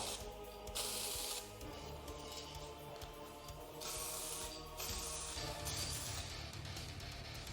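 Spray paint lightly dusted over an Amiga 1200 keyboard, short bursts of close aerosol hiss separated by brief gaps over a low mechanical hum.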